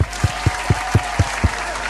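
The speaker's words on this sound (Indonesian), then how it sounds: "hari ini kita tepuk tangan dulu buat Tuhan Yesus kita." A Sunday school class of children claps in unison for Jesus, seven sharp, evenly spaced claps in a quick steady rhythm, fairly close and loud.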